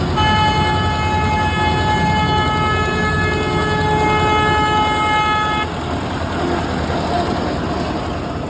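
A train in Rourkela sounds a long, steady horn for about five and a half seconds over a constant loud rumble of rail noise, then the horn cuts off while the rumbling carries on.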